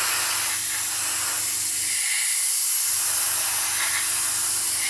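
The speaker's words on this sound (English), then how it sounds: "you can see here this is having no trouble whatsoever spraying this clear" A Gaahleri GHAC-Swallowtail trigger airbrush sprays clear coat in a steady, close, loud hiss that cuts out for just under a second mid-clip, then resumes.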